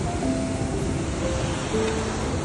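Steady, broad rushing of a fast glacial river beneath Caucasus peaks, loud and constant, with a few faint tonal whines over the churning water.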